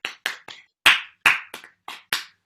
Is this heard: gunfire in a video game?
no